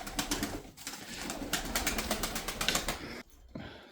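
Pigeons flap and flutter close by in rapid bursts of wingbeats, with soft cooing beneath, stopping briefly near the end.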